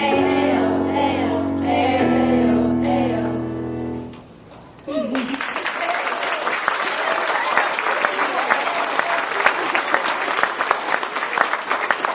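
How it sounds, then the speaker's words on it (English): An audience at a fifth grade school promotion ceremony breaks into loud, sustained applause after a brief lull. The dense clapping carries on steadily to the end, following a stretch of music. "Let's give him one more big round of applause."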